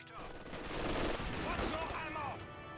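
LMG Grenadiers firing a machine gun in the video game Company of Heroes 2, a dense stretch of rattling automatic fire mixed with other battle noise, steady and moderately loud for about three seconds.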